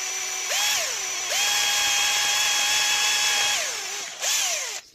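A drill bit bores into an engine part from a Suzuki FZ50 moped, its motor whining up in pitch as it spins up, holding a steady loud tone through the cut, then winding down and briefly revving again at the end.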